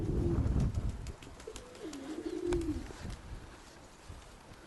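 Pigeons coo softly nearby, a couple of low rolling calls over faint outdoor background noise.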